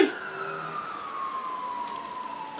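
A passing fire engine siren sounds loud at first, then its pitch slides steadily downward as it moves away, with no voices present.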